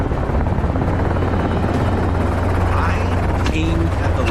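A helicopter flying over open country during a wild boar hunt gives a loud, steady rotor thrum with continuous low pulsing throughout, close and dominant, with a brief whine rising near the end.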